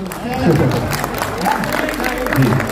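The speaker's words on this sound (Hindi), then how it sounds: "थोड़ी सी तालियां और बजा दो" An audience at a Hindi-Urdu poetry mushaira claps in a warm burst of applause, with a voice speaking over the clapping.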